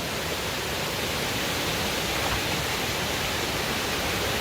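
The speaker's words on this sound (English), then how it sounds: "you could fall straight into the river down here" A river rushing beside an ancient stone-paved mountain trail gives a steady, dense roar of flowing water, constant and fairly loud, with no voices.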